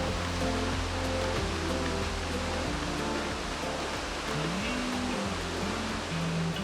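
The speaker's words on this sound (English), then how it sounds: "soaking up the white noise from Rainbow Falls for a few minutes" Broad, steady rushing water of Rainbow Falls in Hawaii roars without pause, dense and enveloping, with a low tonal hum running beneath it.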